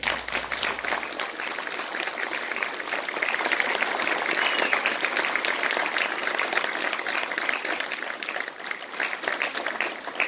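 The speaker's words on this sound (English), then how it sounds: "I think we all owe Bill Woods a big round of applause." Sustained applause from an audience at a band hall dedication, honoring Bill Woods, dense and steady clapping filling the room for about ten seconds without letup.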